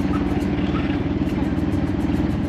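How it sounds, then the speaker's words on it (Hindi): Inside a moving auto rickshaw, a loud, steady engine rumble drones on with road noise and no break. "अभी आ गए हम ऑटो में"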